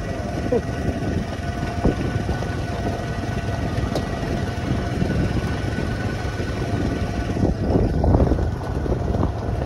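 Wind blows across a hilltop pass in southern Lalitpur amid thick fog, a steady broadband rushing roar that swells slightly near the end, with no voices.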